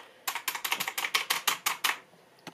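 A cheap £25 LESHP back-lit mechanical keyboard with blue clicky switches and blue keycaps, pressed about ten times in a quick, even run of sharp, close clicks, followed by one fainter lone click after a pause.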